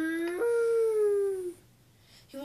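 A dog howls in a long, drawn-out, tonal wail that slowly falls in pitch, then goes quiet before a second howl starts at the very end.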